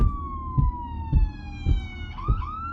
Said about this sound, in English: Then off in the distance, a siren. Low at first, but rising.